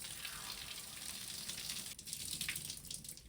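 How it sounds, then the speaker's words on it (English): Warm tap water runs over freshly dyed green fabric during rinsing, a soft continuous hiss and splash at low level that shifts slightly partway through as the cloth is moved under the stream, with no talking. "I first have to rinse it with warm water."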